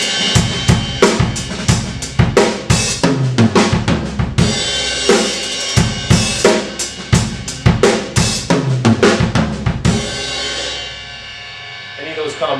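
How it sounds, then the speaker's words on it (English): Close-miked drums play short, busy two-beat linear fills between groove beats, snare and toms alternating rapidly, ending on a fading crash. "you can also use these as 2-beat fills rather than 4-beat fills"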